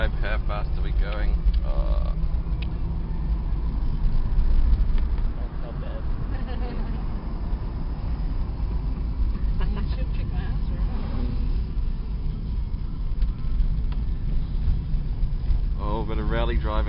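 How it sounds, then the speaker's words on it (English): A car is driven fast along winding hill roads in the Christchurch Port Hills, with a steady close engine and road drone throughout, a brief louder surge early on, and people talking over it. "Bit of rally driving going on"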